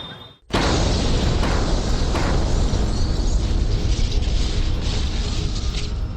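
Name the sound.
bomb explosion sound effect in a crime reconstruction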